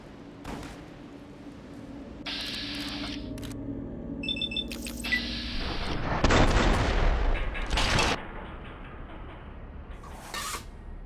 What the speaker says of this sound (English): it's like trying to show the rocket as it's getting shot